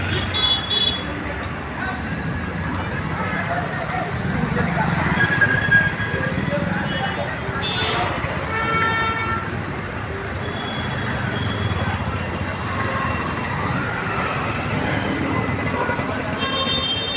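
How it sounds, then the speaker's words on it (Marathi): Gridlocked road traffic at Chandrapada, with engines rumbling and several vehicle horns tooting at intervals over a continuous roadway din, while voices talk nearby. "डाव्या साईडचा ट्रॉफिक पूर्ण अडकलेला आहे."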